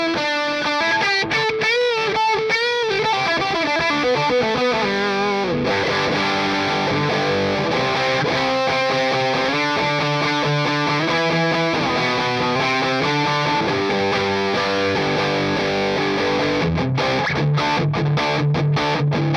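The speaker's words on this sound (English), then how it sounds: "I think this is set up somewhere between distortion and fuzz territory." Electric guitar driven through a high-gain Rat distortion pedal, set between distortion and fuzz, plays sustained saturated chords and riffs with thick, buzzing harmonics, loud and continuous throughout without talk.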